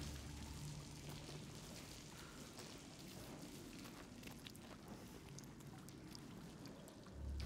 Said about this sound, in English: Takes me to a waterfall.